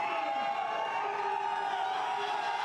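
A crowd at a strongman log lift for max reps at the Rogue Invitational keeps up a steady, fairly faint roar of cheering, with no distinct breaks.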